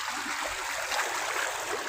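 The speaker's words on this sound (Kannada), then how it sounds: "ಈ ತೊಗರಿಯಾಗ ನೀರು ಹೋಗ್ಬೇಕಂತ ಹಿಂಗೆಲ್ಲ ಹಾಡಿಕೊಟ್ಟು ನೋಡ್ರಿ ಫ್ರೆಂಡ್ಸ." Rainwater runs out through a channel dug in a waterlogged pigeon pea field, a steady close-up gurgling trickle that continues evenly throughout.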